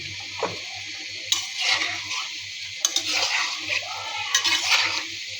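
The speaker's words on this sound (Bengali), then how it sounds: "তেলটা গরম হয়ে গিয়েছে, এখন পাকোড়াগুলি ভেজে নিব।" Cabbage pakoras deep-fry in hot oil with a close, bubbling sizzle that swells in bursts as pieces go in or get turned, scraping stirs between them and no talking.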